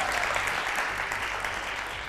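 Studio audience applause on a television entertainment show, a dense even wash of clapping at moderate distance, fairly soft and unbroken, with no speech over it.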